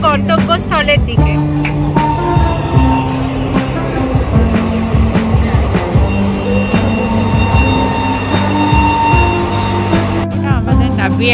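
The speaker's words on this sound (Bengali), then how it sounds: "আমাদের ট্রেন ছুটে চলেছে গন্তব্যস্থলের দিকে" A passenger train runs along the tracks toward East Burdwan in the morning, giving a steady rumbling drone with sustained tonal whines and rattling throughout, with murmuring voices underneath.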